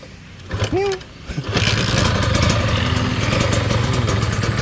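A Kawasaki Serpico 150 SE two-stroke motorcycle engine starts after a brief stutter, then settles into a loud, steady, throbbing idle from the stock exhaust, close by.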